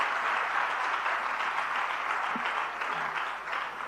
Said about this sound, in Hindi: तालियां बहुत हल्के से बजी हैं, जरा जोरदारी से बजनी चाहिए सब तरफ